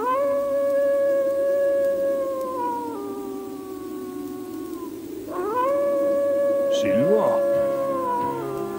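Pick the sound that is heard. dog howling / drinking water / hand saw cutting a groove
dog howling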